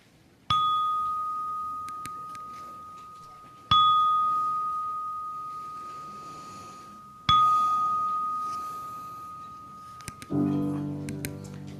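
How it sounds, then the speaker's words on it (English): A church bell rung at the start of a worship service, three clear, loud strikes spaced about three and a half seconds apart, each ringing out and decaying slowly, followed by the first soft notes of a prelude. "May the sound of the bell and the music of the prelude center us"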